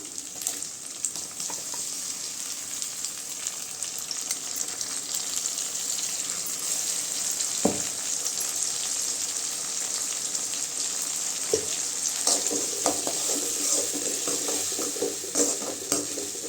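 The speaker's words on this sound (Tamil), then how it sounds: "வெங்காயம் நல்லா வதங்கிடுச்சுங்க இப்போ தக்காளி சேர்த்துக்கலாம்" Onions and tomatoes frying in a pan for drumstick varuval, a continuous hissing sizzle with occasional stirring clatters, a busier patch of stirring near the end.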